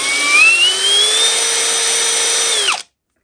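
A power drill fitted with an HSS drill bit spins at a steady high-pitched whine for a few seconds, loud and close, then winds down and stops abruptly.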